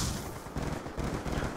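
A grenade goes off in Call of Duty: Black Ops 2 during a Hardpoint match, a short burst of loud booming and crackling blasts mixed with gunfire-like thuds, close and dense throughout.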